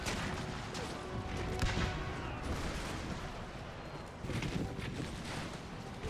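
Troops firing at an enemy unit in a strategy game, a faint, steady din of distant musket-like volleys and crackling shots blended with battlefield noise, no clear voices.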